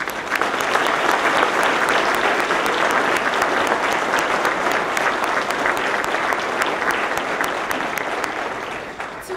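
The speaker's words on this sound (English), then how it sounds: "Would you please join me in giving all of today's honorees another round of applause?" A crowd at a fire and rescue awards ceremony applauds the honorees, dense, steady and loud clapping that lasts about nine seconds and eases slightly at the end.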